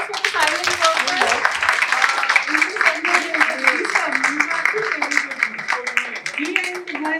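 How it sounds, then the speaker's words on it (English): An audience at an endocrinology and diabetes medical conference claps for behind-the-scenes workers, a brisk patter of applause running for several seconds under continuous talking. "a round of applause for the silent workers"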